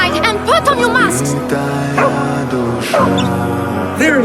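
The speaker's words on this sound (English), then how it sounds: "The dog is trying to warn us!" A small dog barks a warning in a tense wartime village scene, several quick yips and barks with whimpering tones, loud and close, over a swelling music score.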